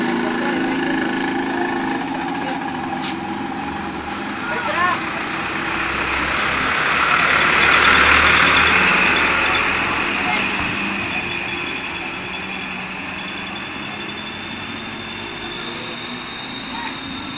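A truck passes on a road during a pocket bike outing, a broad engine rumble swelling to a peak midway and fading away, with steady traffic noise and people talking throughout.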